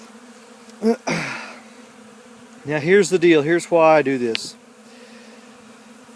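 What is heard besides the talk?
bees buzzing around during winter feeding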